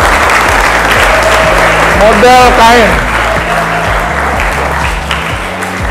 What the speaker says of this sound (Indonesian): Tepuk tangan buat model